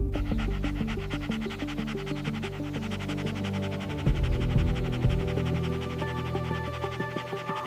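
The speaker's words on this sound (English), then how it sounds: "The owl chicks form a tightly packed ball of panting down, their massive eyes heavy with exhaustion." Owl chicks pant in stifling heat inside a sun-baked hollow, a dense, continuous rapid panting rhythm heard close and fairly soft, with a low rumble swelling midway and no talking.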